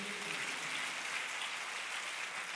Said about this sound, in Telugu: కమ్ ఆన్, దేవునికి ఒకసారి గట్టిగా చప్పట్లు కొడదాం.